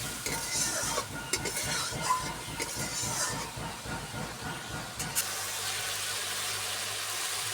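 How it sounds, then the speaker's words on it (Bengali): Spice masala for a Bengali fish curry is stir-fried in a pan with a little water, giving a steady close sizzle broken by rhythmic scraping stirs that settles into a calmer, even hiss near the end. "ভালো করে মশলাগুলোকে কষিয়ে নেব। দিয়ে দেবো সামান্য জল।"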